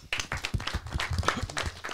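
An audience at a Brest stand-up comedy show claps briefly for a guest, a moderate, somewhat scattered patter of hands with faint voices mixed in.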